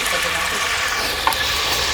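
Meat goes into a hot pan for a djabadji and fries with a loud, steady sizzle and hiss, close up and continuous throughout, with one brief clink partway through.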